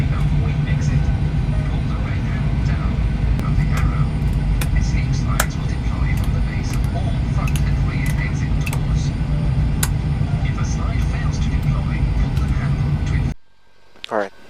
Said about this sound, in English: Alright, so the engine's up and running.